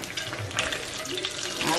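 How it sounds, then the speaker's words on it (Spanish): Dried meat fries with onion in a pan, a dense continuous sizzle and crackle that stays loud and steady throughout, with stirring mixed in. "la cebolla va a ir como la carne va a dorarse junto con la cebolla"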